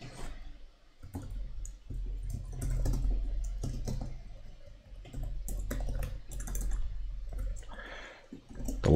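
Typing on a computer keyboard during a programming livestream, a steady stream of close, irregular key clicks and clacks with brief pauses, moderately loud and continuous throughout.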